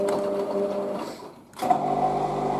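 A Hotpoint Casatta WM63 washing machine on its third intermediate spin during a 40°C cotton programme, with a steady whirring motor hum that dips briefly, then surges back up to speed, close and continuous.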